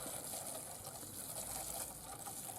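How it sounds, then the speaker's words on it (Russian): Steady hiss and gush of water spraying over freshly made vegetable garden beds on a village plot, a continuous even wash of sound with no talk. "Теперь немного полив."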